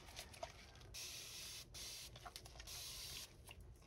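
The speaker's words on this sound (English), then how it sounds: "This is like a 360 mist spray. So I always put alcohol in here." A 360-degree mist spray bottle filled with alcohol gives two long hissing sprays, each lasting under a second, with quieter handling noises between and around them and no talk.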